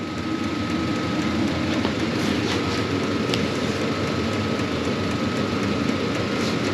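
A portable Hcalory diesel heater runs close by with a steady, even roar and a faint constant whine, unchanging throughout with no talking.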